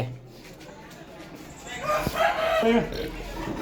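Chicks and chickens cluck and a rooster-like call rises midway, fairly close, with some background noise throughout.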